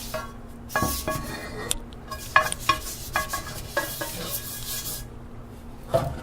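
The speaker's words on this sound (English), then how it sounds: "I make sure I get every little portion of the cooking surface scrubbed with your" A brush scrubs the cooking surface of a cast iron skillet in irregular rasping strokes, with scraping bursts and occasional light clinks, close and fairly loud, heard without talk.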